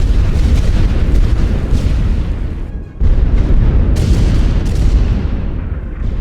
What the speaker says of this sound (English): All that is heavy artillery.